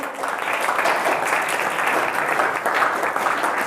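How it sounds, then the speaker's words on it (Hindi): Students applauding at a school general knowledge quiz competition, a dense, even wash of many hands clapping together, loud and sustained throughout with no break and no voices on top. "ताली बजा दो।"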